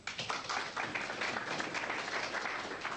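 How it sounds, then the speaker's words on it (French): Audience applause at a 1986 billiard match, a dense, continuous patter of many hands clapping, fairly distant and even in level. "Eh oui, applaudissements, c'est normal."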